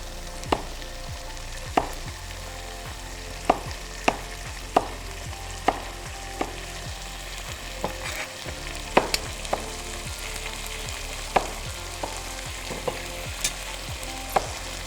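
Chicken fries in a pan with continuous dense sizzling while being stirred, regular sharp scrapes and clacks of the utensil against the pan recurring every second or so; no talking.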